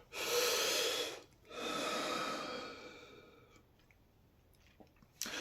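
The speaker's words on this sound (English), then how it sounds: "Take a breath in and out." A slow, deep breath in and out, drawn close to the microphone: a long breathy inhale followed by a longer, gradually fading exhale, then quiet with a few faint clicks.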